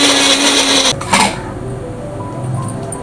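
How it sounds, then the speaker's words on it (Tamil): A kitchen mixer grinder whirs steadily while grinding garlic, green chilies, onion and a single tomato, running loud and close for about a second before cutting off, leaving a low room background. "பூண்டு, பச்சை மிளகாய், வெங்காயம், ஒரே ஒரு தக்காளி, இதையெல்லாம் நம்ம அரைச்சி எடுத்துக்கிறோம்"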